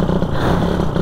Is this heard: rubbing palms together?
no